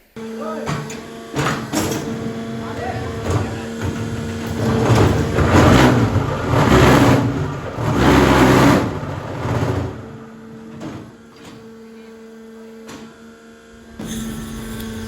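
A concrete hollow block making machine runs with a loud, steady mechanical roar, surging and pulsing in heavy bursts with a persistent hum, then easing before a final burst.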